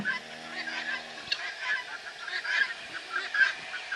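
Guinea fowl calling from an old farm pen, a run of repeated harsh honking cries spread across the clip at moderate distance, with a low steady hum fading out early on.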